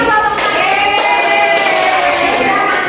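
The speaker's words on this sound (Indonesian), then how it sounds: "untuk hasil Tepuk tangan tadi" Rhythmic hand clapping in an elementary school class, spaced claps about every half second over children's voices chanting along.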